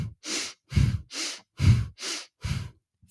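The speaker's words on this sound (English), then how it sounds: "So you'll breathe in and expand quickly." Rapid, forceful breathing in and out through the nose as a breathing exercise, six sharp bursts in a steady rhythm, close and fairly loud, with no talking.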